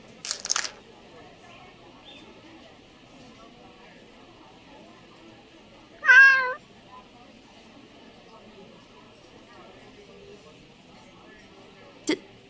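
A single short cat meow sounds midway through a quiet scene in the video game The Letter. A soft click comes near the start and another near the end, over a faint steady hum.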